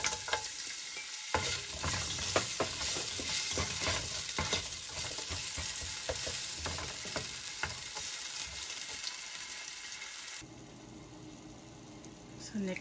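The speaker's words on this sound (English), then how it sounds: "Panggisa lang natin sa ating onion at saka ginger at saka garlic. So, ilalagay ko na yung ginger." Chopped ginger sautéing in a small amount of cooking oil for Filipino cooking, with a continuous close sizzle and repeated stirring scrapes that fade slightly near the end.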